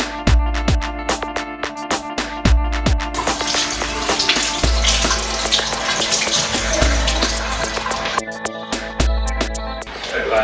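Tap water runs over a Scotch bonnet pepper being washed, a steady splashing flow broken by sharp knocks and clatters, with a voice talking over it.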